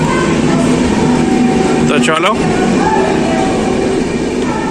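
Passenger train bound for Asansol standing at Sealdah station: a steady rumble of rail and platform noise with a brief squealing chirp midway, while people talk over it.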